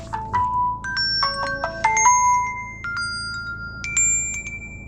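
A mobile phone ringtone plays a bright electronic melody of short, clear tones in repeating rising phrases. It sounds close and fairly loud, with no talk, at a used Mercedes-Benz car dealership.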